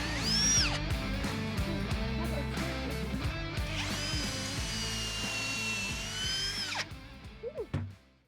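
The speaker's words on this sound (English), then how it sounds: "now we've got our dowel holes drilled on both sides" Power drill boring dowel holes into wood for budget shelves, a loud whining motor with two long sustained bursts and pitch changes, ending in short stuttering spurts as the trigger eases off.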